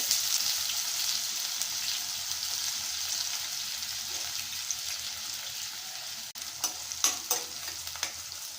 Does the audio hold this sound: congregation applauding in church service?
no